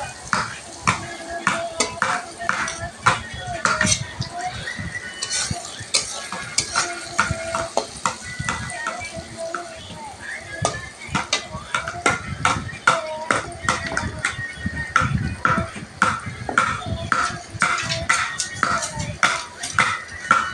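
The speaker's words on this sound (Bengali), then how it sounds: "নিয়ে একটু হালকা ভেজে নেব" Soybean chunks seasoned with salt and turmeric sizzle lightly in a pan while a utensil stirs and scrapes them in constant, busy rhythmic strokes, close and fairly loud.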